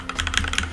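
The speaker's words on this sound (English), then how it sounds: "I need to get used to this typing now because its layout is a little different" Typing on a Keychron K2 V2 mechanical keyboard, a quick run of close, crisp key clicks tapping in an uneven rhythm, loud and alone without talk.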